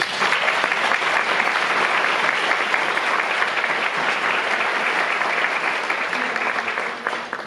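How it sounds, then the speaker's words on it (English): Audience applause at a literacy event, sustained enthusiastic clapping from a crowd filling the hall steadily for the whole stretch, tapering slightly at the end. "please join me in giving Muna another round of applause"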